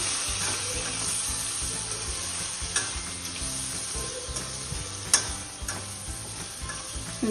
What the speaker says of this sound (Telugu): నానేసుకున్న చింతపండు వేసి ఒకసారి బాగా కలిపేసి